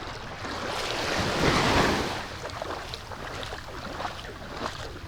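Sea waves at high tide wash and rush against the shore with a steady surging roar that peaks briefly, mixed with wind buffeting the microphone.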